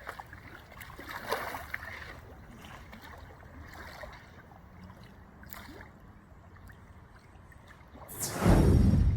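Water swishing and gurgling as a kayak paddle pushes through it toward the front of the boat, with soft splashes, then a louder rush of water near the end.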